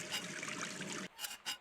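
Water runs from a bathroom tap in the game Gone Home, a steady trickling stream that pours for about a second, then breaks into two short splashy bursts.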